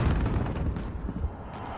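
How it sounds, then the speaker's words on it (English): Call of Duty precision airstrike explosions boom and rumble continuously at close range, with heavy low blasts overlapping one another and no pause throughout. "Be advised, friendly precision airstrike inbound."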